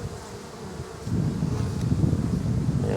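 Bees buzz around an opened Flow Hive during an inspection, a dense steady hum close to the microphone that swells louder after the first second, with some wind noise.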